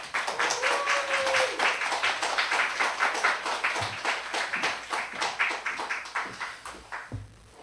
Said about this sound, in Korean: 우리 강도사님 나올 때 큰 박수로 환영하도록 하겠습니다.